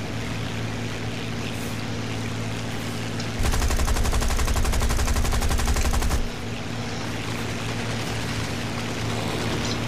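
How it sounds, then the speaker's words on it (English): Rapid machine-gun fire in War Thunder, a dense burst of evenly spaced shots lasting about three seconds mid-clip, loud over a steady engine drone with no talk. "Ooh, I'm being shot at."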